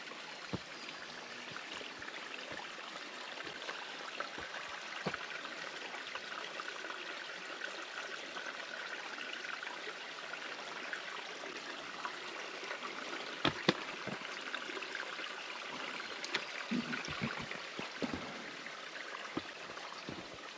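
Stream water spilling over a small dam along a forest trail, a continuous soft rushing flow with occasional faint knocks and taps, fairly quiet and steady throughout.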